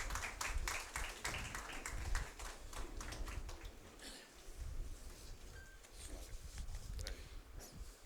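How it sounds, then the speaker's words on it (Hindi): An audience applauding to welcome Justice G. K. Vyas at a culture camp gathering, a sustained crowd clapping at moderate loudness from a room of people, continuous throughout. "सब तालियों के साथ उनका स्वागत करें"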